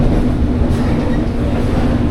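Commuter train on the single-track Nambo rail line, running steadily and close as it switches tracks, with a continuous loud rumble and faint wheel noise throughout.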